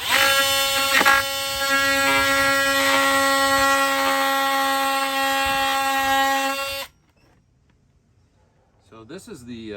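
Drilling with a general purpose carbide bit, a loud whining drill with strong tonal harmonics running steadily for about seven seconds before stopping abruptly, followed by quiet and a brief sound at the end.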